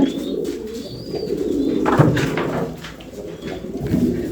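High-flyer Giribaz pigeons coo at a pigeon farm, a close, continuous murmur of overlapping low calls with a few brief shuffling sounds.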